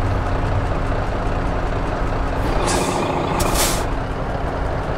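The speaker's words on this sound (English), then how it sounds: "the truck's running a cat engine, a 600 horsepower cat" Freightliner Century truck with a 600 hp Cat engine in American Truck Simulator idles with a loud steady low rumble, interrupted by a sharp hiss of air brakes releasing near the middle.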